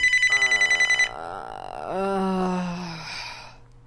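A telephone ringing with a rapid electronic trill that stops after about a second, followed by a long drawn-out groaning, sighing vocal sound.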